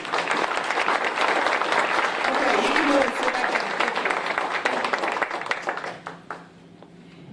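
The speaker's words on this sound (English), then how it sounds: "Can we clap for them again?" A crowd claps for a UTEP women's basketball team at a press event, a loud, sustained patter of many hands that thins out near the end as a voice speaks over it.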